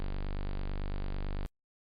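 A very low, buzzy sustained G0 tone at 24.5 Hz drones steadily for about a second and a half, then cuts off abruptly into silence.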